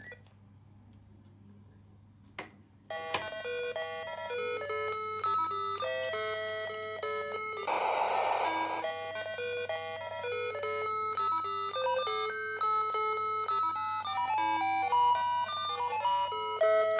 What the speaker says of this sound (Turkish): Bir uçak oyunu.